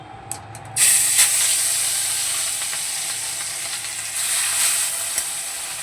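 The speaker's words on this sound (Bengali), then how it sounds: "তেলটা গরম হয়ে গেছে, এবার আমি এক এক করে মাছগুলোকে ভেজে নেব।" Fish drop into hot oil one at a time in a home kitchen. A sharp hiss bursts out, then eases into a steady, loud close-up sizzle that swells again briefly near the end.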